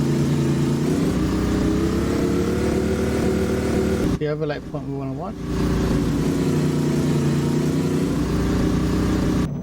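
A simulated Ford 534 ci V8 in a vintage Ford F800 truck holds a loud, steady high-rev drone with a rich harmonic hum. It dips briefly while someone speaks, then resumes at full level.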